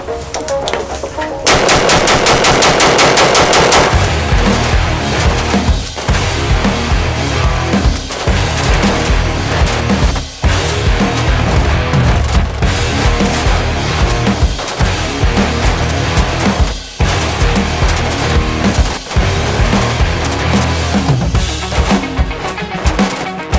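A Prema Arms AR-15 rifle fires long, rapid strings of shots during a thousand-round stress test, loud and close, a dense continuous crackle of reports broken only by brief pauses, with no talking.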